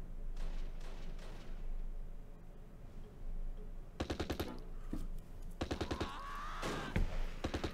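Mortar and small-arms fire in the wartime strategy game Close Combat Last Stand Arnhem, with Polish paratroopers fighting German SS. Sharp repeated blasts come in quick clusters over a low rumbling battlefield backdrop.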